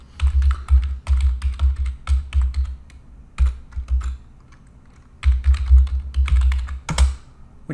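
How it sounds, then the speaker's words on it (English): An email address being typed on a computer keyboard, with quick bursts of close key taps separated by short pauses; no talking. "start typing in the email address or the name of the person"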